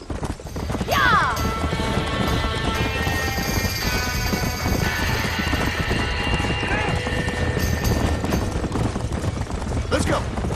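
Horses clip-clop and whinny in a burning barn in Red Dead Redemption, hooves and neighs sounding over a dense roar of fire and commotion, with people shouting.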